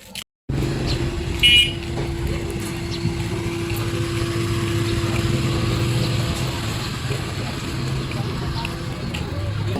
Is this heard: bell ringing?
no